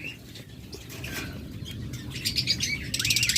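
A pair of blue lovebirds in a bird market give quick, bright chirps and flutter their wings, close and lively, with the calls growing busier toward the end.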